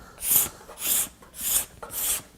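Hand tool shaving wood in four even strokes, each a bright rasping swish about half a second long with short pauses between, close and clear with no talk.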